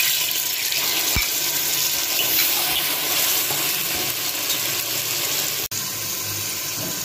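Onion paste goes into hot oil with brinjal already frying, giving a steady broadband sizzle that hisses evenly throughout, broken by a couple of short knocks near the end.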